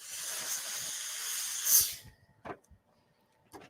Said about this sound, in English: Using a little steam so I can make that nice